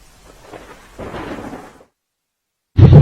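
Rain falls over waterlogged roads in Navsari, Gujarat, a moderate hiss that cuts to silence before a much louder, heavier burst of rain and rumble returns at the end.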